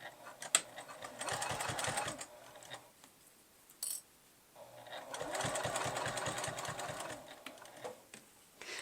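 A sewing machine stitches a fabric storage bin in two bursts of rapid, steady needle clatter, separated by a pause with a short click, close and fairly quiet.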